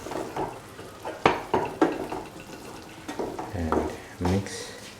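Cooked lentils (dal) poured into a frying mixture in a pan and stirred, with wet scraping strokes and clanks of a spoon over a soft sizzle, irregular and close.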